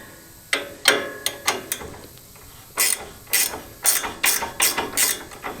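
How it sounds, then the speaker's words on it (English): A ratchet loosens a nut on an upper control arm during a suspension install, a series of sharp clicking bursts close by, first a few, then a rapid run of repeated pulls. "keep loosening this nut up."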